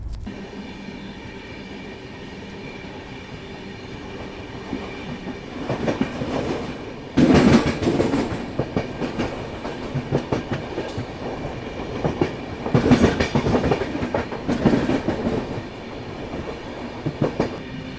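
A Toofan Goa Superfast express rolls along the rails just after departing Bhusaval in the early morning, a steady rumbling drone broken by louder clickety-clack bursts of wheels over rail joints.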